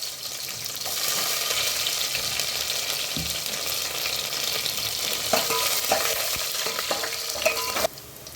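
Garlic sizzles in hot oil alongside fenugreek seeds in a pan for a Sankra fish kulambu, a steady frying hiss broken by scraping stirs and a few clinks of a spoon, fairly close and soft.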